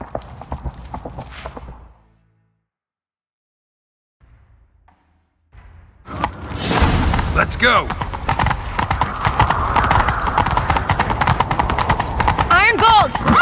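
Horse hooves gallop in The Witcher 3, a steady loud clip-clop rhythm that starts after a short silence and continues under game music and effects, with a voice calling out at the start.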